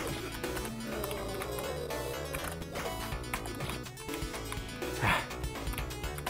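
Dogs bark in the retro video game Sword of Vermillion, short yapping barks repeating over dense, busy in-game music at moderate volume.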